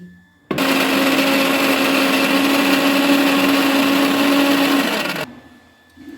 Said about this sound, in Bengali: দিয়ে আর একটুখানি আমি পিষিয়ে নিচ্ছি